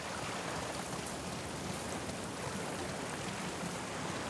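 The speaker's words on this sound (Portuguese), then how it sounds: "Bora sair da chuva." Steady rain falls in The Last of Us Part II, an even broadband hiss of rainfall on surfaces that stays constant throughout, with no voices or other sounds over it.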